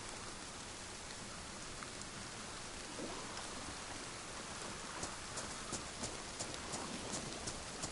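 Heavy rain pours in the survival game DayZ, a dense, steady hiss of drops with scattered sharper patters near the end, continuous and without talk.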